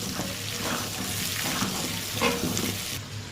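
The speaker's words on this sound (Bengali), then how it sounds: "যতক্ষণ পটলটা ভাজা হচ্ছে" Pointed gourd (potol) frying in a pan for a prawn and potol dish, giving a steady, moderately loud sizzle with faint clatters and stirring sounds, no voices.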